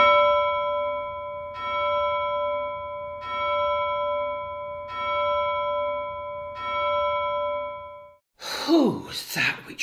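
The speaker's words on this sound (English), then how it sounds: "Who's that which rings the bell?" An alarm bell rings during a staged street brawl in Act II of Shakespeare's Othello. About five clear, resonant strokes sound at a steady, unhurried pace, and a voice cries out just after the last one.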